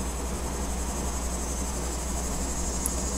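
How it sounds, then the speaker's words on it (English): Cicadas buzzing outdoors in a continuous, even, high-pitched drone that holds steady throughout, with no speech over it. "You guys hear that? Cicadas."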